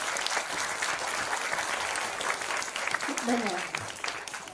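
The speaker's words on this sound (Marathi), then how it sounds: "आपण सर्वांनीच एकदा जोरदार टाळ्या वाजवूया का?" A school audience at a Marathi school assembly event applauds loudly and continuously, a dense wash of many hands clapping. A voice speaks briefly near the end.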